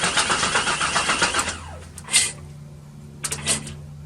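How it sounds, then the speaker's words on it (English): A 1996 Chevy Tahoe engine cranks loudly and close for about a second and a half, then stops, leaving a low hum with a few clicks. "I'm gonna try and crank it and see if I can see anything from here."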